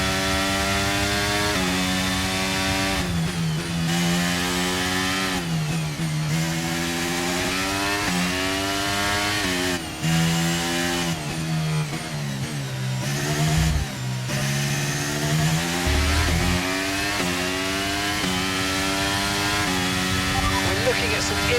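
F1 car engine in the F1 23 racing game at the Miami Grand Prix, suffering internal combustion engine wear, revs loudly and continuously through rising and falling gear shifts with brief dips between.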